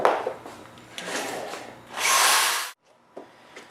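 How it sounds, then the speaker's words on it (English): An 800 grit sanding pad worked over a car headlight lens, giving a steady abrasive rubbing hiss that builds to a louder, harsher burst before stopping abruptly, followed by a couple of short scuffs; no voices. "now we've got our 800 grit sanding pad, and we're going to do basically the same thing"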